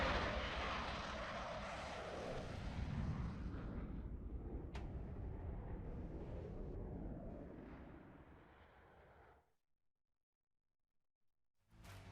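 Rafale fighter jets roar past in a loud, broad rushing engine sound that swells and then fades out into silence, with a brief burst returning at the very end.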